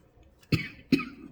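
A person coughs twice in quick succession from wood smoke, close and fairly soft, with near silence around the two bursts.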